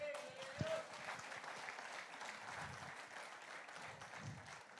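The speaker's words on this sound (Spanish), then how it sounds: "dale un aplauso a Dios" Church congregation applauding during a sermon, an even, sustained patter of clapping throughout with a few low voices mixed in.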